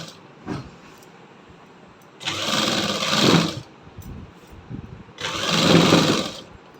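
A sewing machine stitches along the corner of salwar fabric in two short runs of fast mechanical whirring, with quiet handling noises between them.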